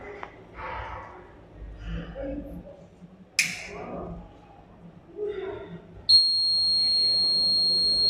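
Audio alarm of a smart saline infusion monitor triggered by a temperature reading above 50, a steady high-pitched electronic tone that starts abruptly near the end after quieter handling noises and murmuring.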